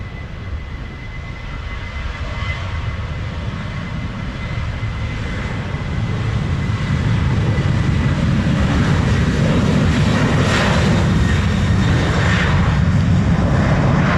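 A Southwest jet takes off from runway 07 at Montego Bay with a broad, distant engine roar that swells and grows louder partway through, then holds steady.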